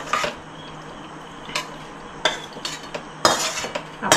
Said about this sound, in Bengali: এবার আমি সবজিটা থালায় ঢেলে নিলাম।